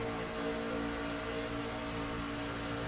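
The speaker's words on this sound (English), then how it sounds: "Let's ride on board with Ritter right now and look at our tower stats and just listen to the truck." Racing truck engine heard on board at Daytona in a Truck Series race, a loud continuous drone with layered harmonics and slight pitch variation, steady throughout with no talking.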